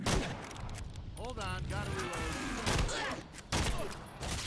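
A burst of rapid gunfire in the Evil Dead video game crackles in quick clustered shots, loud and close, with a voice calling out briefly in the middle.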